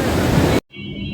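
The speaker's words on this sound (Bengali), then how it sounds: "অনেক বৃষ্টি চলে আসছে" Heavy rain pours down in Galle, Sri Lanka as a dense, steady roar of hiss. It cuts off abruptly, then a quieter background hiss resumes.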